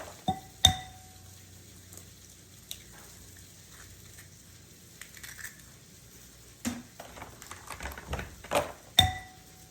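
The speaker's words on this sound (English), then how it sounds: "I'm going to crack 10 eggs and scramble them" Eggs cracked into a bowl for a breakfast casserole: sharp clicks and taps of shell on the rim, then soft scattered clinks and scraping as ten eggs are whisked, faint and close with quiet gaps.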